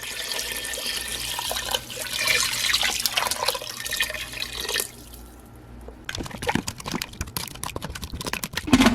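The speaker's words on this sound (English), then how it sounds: "I'm going to add my 4 cups of water" Water pours steadily into an Instant Pot with a broad splashing rush, then stops, followed by a few clinks and knocks.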